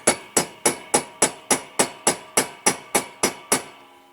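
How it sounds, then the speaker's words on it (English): A plastic hammer taps a part of a Corgi Major Toys Carrimore car transporter held in a rubber-jawed vise. About thirteen crisp, close knocks fall at a steady even pace, each decaying quickly, with no talk. "I've got my plastic hammer. I've got the vise with the rubber on, so I'm just going to tap it."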